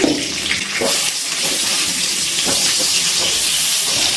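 Two medium potatoes, diced and frying in oil, give a loud, continuous hissing sizzle close by, strongest at the very start and then holding steady with no voices.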